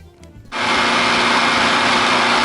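A food processor churning fine cheesecake crumbs with melted butter snaps on after a short quiet moment, then runs at a loud, steady high-pitched whir until the end.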